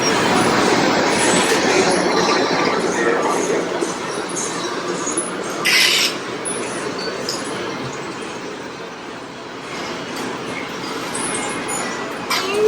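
A train runs along rails, producing a continuous loud rolling rumble with rattling carriage noise and a brief higher squeal near the middle.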